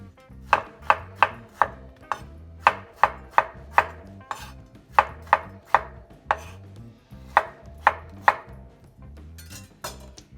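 A knife thinly slices strawberries for a healthy salad, making about twenty crisp, evenly spaced cuts against a board in a steady rhythm. Each stroke is close and distinct, with no talking.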